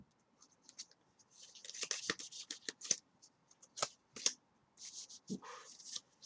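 Yu-Gi-Oh cards being cut and handled for a Lightsworn Shaddoll deck, giving soft, close scratchy shuffles and card snaps in short bursts with brief pauses between them.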